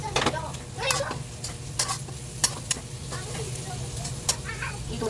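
Onions are sautéed in a pan for chicken biryani: a steady sizzle broken by scraping stirs and clinks of a utensil against the pan, with faint background household sounds.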